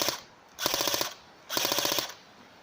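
A gun firing two rapid bursts, each about half a second of fast automatic shots, loud and close, separated by a short quiet gap.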